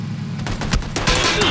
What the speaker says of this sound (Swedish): Skott till höger.